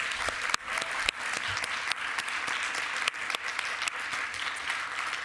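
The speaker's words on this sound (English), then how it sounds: "Let's give Dallas one more round of applause" A panel-session audience gives sustained applause at moderate distance, an even wash of many hands with no talk over it.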